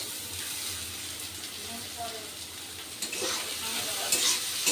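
Crushed dried loitta fish with turmeric, salt and spices fries in a pan, a steady close sizzle broken by scraping stirs and occasional soft clinks.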